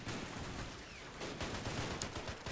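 A static machine gun rattles in bursts during a Japanese invasion of China video game battle, dense rapid crackling amid other gunfire and combat noise, with no talk.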